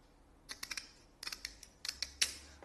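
Standard scissors snip through a custom grill, cutting it down the middle in three quick bursts of sharp, crisp close-up clicks with brief pauses between them and no talking.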